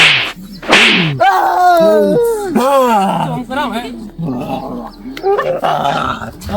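A dog barks and snarls in sharp bursts, mixed with loud, excited human voices shouting close by.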